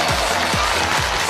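An audience at a televised children's talent show claps steadily to welcome a seven-year-old Yi girl onto the stage, a loud, dense wash of applause with no break.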